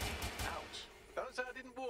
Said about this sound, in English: you can't take these combat spiderbots out, you have to shoot them.